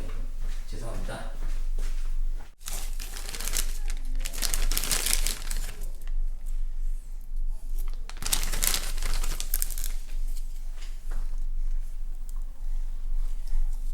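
A snack wrapper crinkled and handled at close range, bursts of loud crackling rustle over several seconds with a sharp thump between them, while someone talks throughout.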